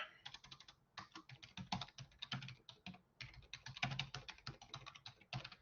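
Fast, close typing on a computer keyboard produces a dense run of crisp key clicks with a couple of short pauses and no speech over it.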